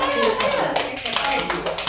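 Children clapping their hands during an early childhood learning activity, a short run of quick uneven claps mixed with young voices talking over them.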